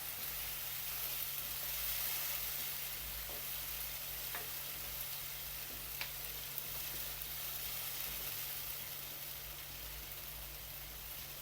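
Blended tomato frying with capsicum and onion in a pan, a soft steady sizzle and hiss with a few faint scrapes and clicks, quiet and continuous, with no talking.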